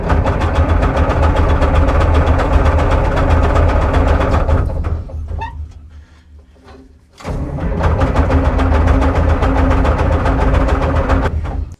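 Old Euclid dump truck diesel engine, long unused, rumbling loudly nearby, dropping briefly to a lower, labored chug midway, then firing back up to a steady, heavy idle.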